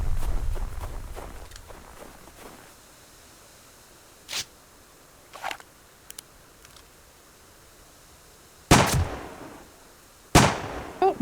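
Gunshots ring out in the survival video game Subsistence as sharp, loud cracks, one at about nine seconds and another near the end, after a quieter stretch with a few small clicks and thuds.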